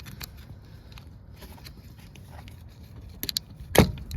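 A plastic pop lock clip on a 2002 3.8 New Edge upper intake popping free, a single sharp snap near the end following a few quieter clicks and handling noises, close up with no talk.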